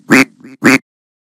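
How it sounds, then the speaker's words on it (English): A duck quacks twice in quick succession, loud and close, with a short nasal murmur between the two calls. "Duck."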